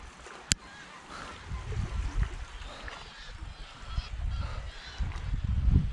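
Geese honk near water in a muddy, slimy spot, with repeated calls over low rumbling handling and splashing noise; one sharp click stands out early.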